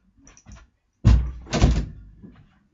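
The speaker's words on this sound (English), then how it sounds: "That was just me closing the door there." A house door closing, two solid thumps in quick succession, fairly loud and close, preceded by faint shuffling and followed by a fading settle.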